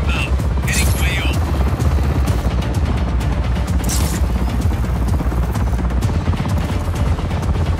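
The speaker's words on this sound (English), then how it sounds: "Helicopter inbound." Constant whirring helicopter rotor noise in the game Just Cause 4 fills the scene amid game sound effects, with occasional gunfire pops and voices speaking over it.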